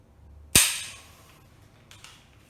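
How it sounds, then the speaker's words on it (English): A gun dry-fired on a snap cap gives one sharp, loud snap with a fast-fading ring, followed about 1.5 seconds later by a couple of faint mechanical clicks, with no talking. "I've got a snap cap in here, so I'm going to fire my first shot"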